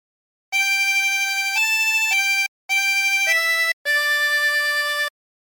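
A harmonica plays a slow hymn phrase from Nearer My God to Thee without bends, in three sustained breath-held note groups with short pauses between them, close and clear.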